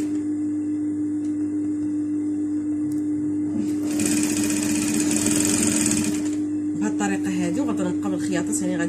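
A sewing machine stitches a long princess-cut coat seam in one loud, fast burst of about two seconds, with talking before and after it.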